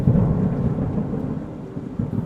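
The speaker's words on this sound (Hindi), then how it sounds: "तेज हवाएं चलने लगी और मूसलाधार बारिश शुरू हो गई" A loud thunderstorm rumbles with deep rolling thunder over dense heavy rain and gusting wind, steady and close throughout the short stretch.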